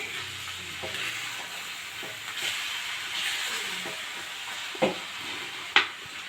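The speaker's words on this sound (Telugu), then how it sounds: "లోపల మంచిగా ఎగ్ అయితే ఉడికిపోయింది ఇది తీసి రివర్స్ వేసుకోవడమే" An egg mixed with beetroot sizzles in a pan with a steady hiss, broken by a few scraping taps and two sharper knocks as it is turned over toward the end.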